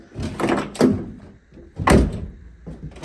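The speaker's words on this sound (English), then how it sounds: "Doors don't shut on these cars like that." A door of a 1971 Pontiac Trans Am shuts with a solid thunk, followed by another firm close; close and fairly loud, with soft handling noises between.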